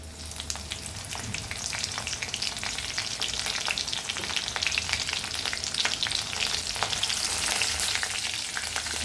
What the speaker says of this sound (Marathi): आता मी मिरच्या टाकते.